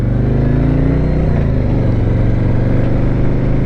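A 2021 Harley-Davidson Road King in crimson red and stone washed white pearl rumbles on a test ride, its loud, deep V-twin drone steady throughout, with the pitch easing and shifting briefly midway.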